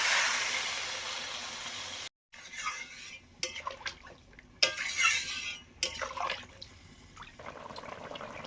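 Water is poured into a pan with cumin-coriander paste for a fish curry, a rushing pour followed by quieter splashes, sizzles and pan clatter.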